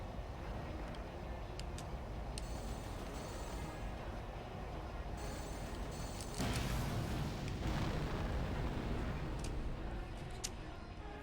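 Enemy craft blow up in Armored Core 4 amid a dense, rumbling wall of explosions and booming mech combat noise, with a heavier burst midway, loud and continuous throughout.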